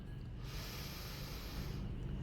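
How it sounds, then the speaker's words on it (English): A single deep, slow breath drawn in through the nose, a soft airy rush that holds for over a second and then fades, close and quiet with no other sound around it. "you can just take some deep breath"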